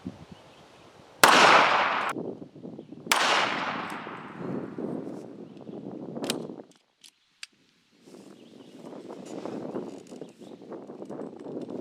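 Remington 1911 R1 pistol firing .45 ACP outdoors: two loud, close shots with long ringing echoes, then a quieter sharp report and softer handling noise.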